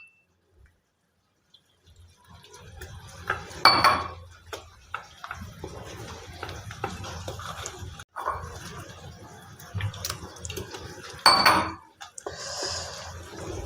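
Spinach leaves, besan, salt and red chili powder mixed by hand in a bowl, with soft scraping, clinks and rustling, two sharper knocks against the bowl, close and fairly quiet.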